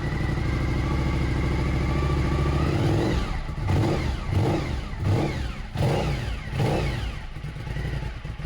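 A Suzuki SV1000 motorcycle with a smoking, troubled engine idles steadily up close, then breaks into uneven, pulsing revs as the idle is raised.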